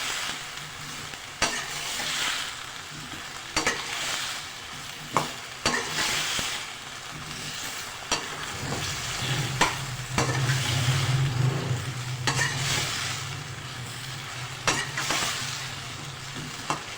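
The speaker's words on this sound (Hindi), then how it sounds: "अब हल्दी पाउडर और कलौंजी डाल के मिक्स करेंगे" Turmeric powder and kalonji stirred into potatoes and spring onions frying in a pan. A loud, continuous sizzle is broken by repeated scraping strokes of a spoon at an uneven rhythm.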